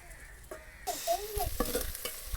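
Onions cook in a pot set over a fire on a cold winter day, with a soft frying hiss that swells after a quiet start and a few faint chirping tones mixed in; no talking.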